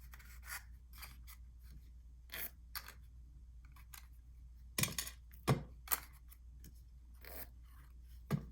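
Cardboard mini chocolate box being folded and creased by hand, producing scattered short scraping and rubbing rustles with a few sharper crackles, close and fairly faint.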